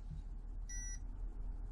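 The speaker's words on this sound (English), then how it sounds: "We got our little beeps." RC crawler electronics for a coupled crawl setup give a short high beep on power-up, a single faint tone lasting about a quarter second over low background rumble.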